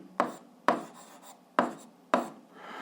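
A pen writes on paper during a math lesson. Four short, sharp scratching strokes arrive at an irregular pace, close but faint, each fading quickly into quiet, with no talking.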